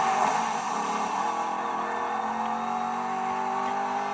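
Cars in the racing video game The Crew Motorfest, a continuous whirring engine drone with steady tonal harmonics that holds at a constant moderate level, with no speech.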